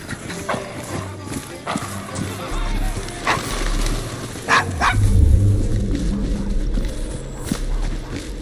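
A dog in the Devil's Acre district of Victorian London in Assassin's Creed Syndicate gives several sharp barks at strangers, heard over a busy street with horse hooves clip-clopping, footsteps and voices.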